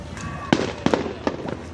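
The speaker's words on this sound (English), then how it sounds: "Let's watch the fireworks." Fourth of July fireworks pop and crackle in several sharp, uneven bursts, some close and loud, others fainter, with a low hum of background noise.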